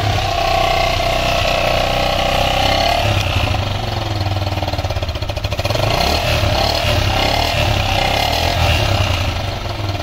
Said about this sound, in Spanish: Y la opción número dos, inicio por patada.